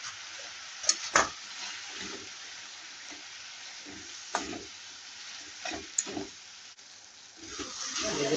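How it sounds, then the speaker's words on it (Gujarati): Onion and tomato chutney sautéing in a pan, a quiet sizzle broken by intermittent stirring knocks and scrapes of a spoon against the pan, with no one talking. "ડુંગળી ને ટામેટાની ચટણી સંતળાઈ ગઈ છે"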